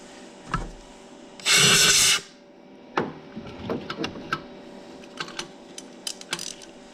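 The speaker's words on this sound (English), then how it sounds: "My ratchet in here, get it loose." A ratchet loosens a spark plug on a Ford Fiesta 1.6, with a run of sharp close clicks following a brief loud hiss-like burst, then scattered metallic ticks.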